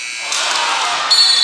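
A buzzer goes off at the end of a high school basketball game in a gym, a loud sustained electronic tone that fills the room, with crowd noise underneath.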